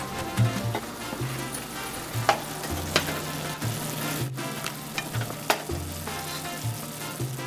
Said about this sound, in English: all you have to do is cook it on a saucepan and wait until it's fully cooked